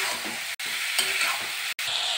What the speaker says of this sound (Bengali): এবার দিয়ে আমি কষতে থাকব।